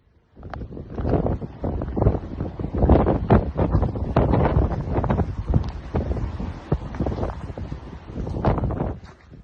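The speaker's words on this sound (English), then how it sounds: "Gusts exceeding 108 miles per hour lash the Atlantic coastline." Strong storm wind gusts, over 108 miles per hour on the Atlantic coastline, roar and buffet the microphone in surging bursts, loud and rough, with no speech.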